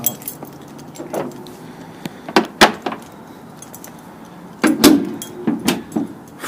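Keys jangle near a Mazdaspeed 3 during a DIY short shift plate install, several sharp metallic jingles and clinks in bursts with quiet gaps, close and fairly loud, alongside faint handling knocks.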